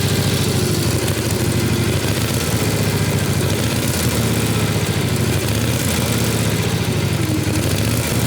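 A 1912 Harley-Davidson Silent Gray Fellow motorcycle engine runs steadily nearby, a loud, continuous low chugging with a rapid firing rhythm and no speech.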